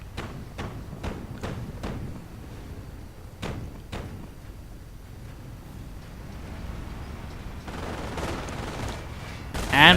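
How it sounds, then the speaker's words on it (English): Gunfire from an MG42 machine gun and an M8 armored car in a WWII strategy video game: a run of sharp, evenly spaced shots followed by a couple more bursts, then rumbling battle noise building to a loud blast. "coming under fire from the MG42 and the M8"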